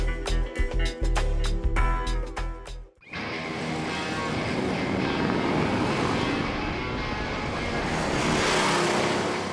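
Harley-Davidson Sport Glide motorcycle riding up winding mountain roads on Tenerife's Teide, a brief choppy engine burst giving way to a loud, steady roar with heavy wind rush that swells toward the end.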